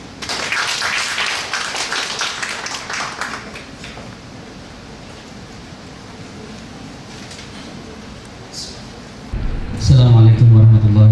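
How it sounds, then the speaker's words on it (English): Audience at an academic conference on gender and urban space applauding a plenary speaker, a dense patter of many hands at moderate distance that thins and fades over several seconds, followed by a brief tonal sound at the end. "Please give a warm applause."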